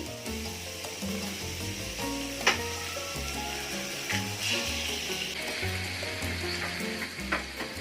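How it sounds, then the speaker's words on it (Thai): Garlic and pork fry in a pan with a constant bright sizzle and hiss, punctuated by a few sharp spatters and the scrape of stirring, close and fairly quiet. "เจียวกระเทียมกับหมูนะคะ"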